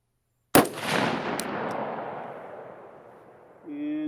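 A CMMG Endeavor 6.5 Creedmoor rifle fires one sharp shot at an outdoor range, and a long rolling echo follows and fades. A voice starts talking near the end.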